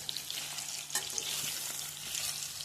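Chicken pieces for an Andhra-style chicken curry sizzle and fry steadily in a pan, a dense close crackle with a few soft clinks of stirring and no talk.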